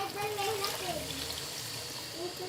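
Water poured from a glass into a pot of frying masala for a green chickpea and potato curry, a steady close trickle and splash lasting a couple of seconds.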